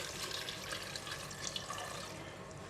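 Water runs and splashes steadily into a soup pot holding chicken, ginger, red dates and vegetables, a soft, close pouring sound with no voices.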